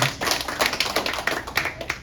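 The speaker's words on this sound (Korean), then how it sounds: "우리 박수로 감사합니다" A congregation at a Korean Presbyterian church's Sunday worship service in Toronto gives a short round of applause, a brief patter of scattered, close hand claps that fades within about two seconds.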